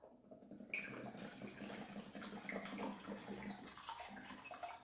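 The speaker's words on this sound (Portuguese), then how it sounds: "E eu vou estar colocando água." Water pours steadily into a 2-litre Tupperware silicone bag, a continuous close splashing, gurgling stream that starts after a brief quiet moment and runs without talk.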